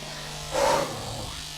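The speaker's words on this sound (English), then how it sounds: "I'm gonna shave my head." An electric razor buzzes briefly while a head is shaved, a close, moderately loud hum that swells for about a second and then fades under a steady background drone.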